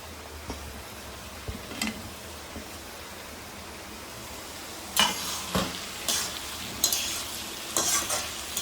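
Cucumbers and tomatoes frying in a pan, a soft steady sizzle with intermittent scraping and clinking as they are stirred, louder stirring strokes clustering in the second half.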